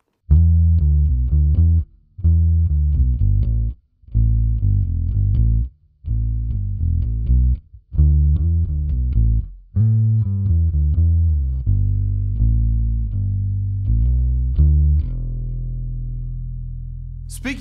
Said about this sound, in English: I think it sounds great, especially because Chris just recently put Ernie Ball, Music Man, Cobalt, Flatwound strings on it